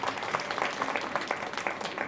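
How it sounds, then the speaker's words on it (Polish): An audience at a St. Nicholas Day event in a spa pump room in Krynica-Zdrój applauds, a brief stretch of dense, steady clapping from a crowd heard from a moderate distance. "to są wielkie brawa, to są małe brawa. O, właśnie! Owacje!"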